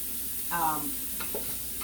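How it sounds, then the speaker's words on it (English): Garlic and vegetable paste being sautéed in a pan for a quick miso soup: a faint, brief sizzle with a couple of soft stirring scrapes. "I'm going to saute all this in here."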